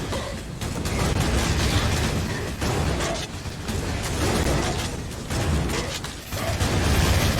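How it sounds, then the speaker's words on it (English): An explosion in the video game Hellbound, a loud, dense blast with repeated booming bursts and heavy rumble filling the whole stretch, with no speech over it. "And explosion."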